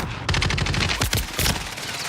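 Rapid automatic gunfire from a first-person shooter video game, loud sustained bursts of quick cracking shots with brief gaps, close and dominant with no talking.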